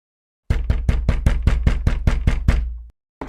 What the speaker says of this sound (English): Charlie bangs on his friend's front door looking disheveled.